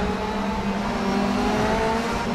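Race car engine revving steadily in the DTM sim racing game at Moscow, a loud continuous drone with sustained engine harmonics throughout, no voices.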